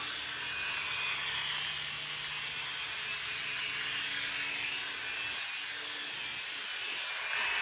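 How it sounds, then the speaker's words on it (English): A small Black Ant CZ02 remote-control helicopter whines nearby, a high buzzing motor drone that holds steady throughout with a faint mechanical rattle. "Helicopter."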